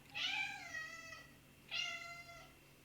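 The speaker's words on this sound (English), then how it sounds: "We have a shop cat downstairs, in case you didn't know. She likes to come up and say hello. Can you hear that?" A cat in a hair salon meows twice, each call drawn out and tonal, the second after a short pause, fairly faint against a quiet room with no talking.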